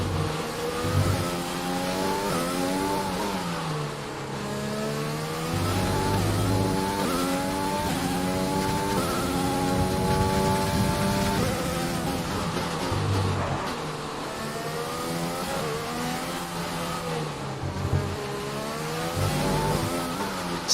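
An F1 race car engine on the Yas Marina circuit in F1 2020 revs loud and high, its pitch climbing and dropping through gear changes and corners for a long, continuous stretch.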